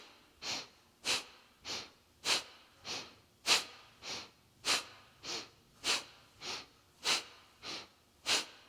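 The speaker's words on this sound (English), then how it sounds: "you may have practiced the breath of fire. So inhale, exhale, in and out of the nose" Kundalini yoga breath of fire: sharp, forceful nasal breaths repeating at an even pace, about fourteen close, loud puffs with short quiet gaps between them and no talking.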